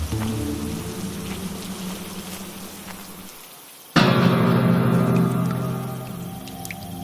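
Rain pouring in a cartoon scene, a steady hiss of falling water that fades, cuts out briefly, then returns suddenly louder and fuller with scattered drips.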